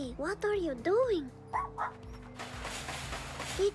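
A puppy in the video game Little Misfortune gives several rising, whining yips and a short whimper, close and fairly clear, followed by a brief noisy rustle, with a quiet steady game tone underneath.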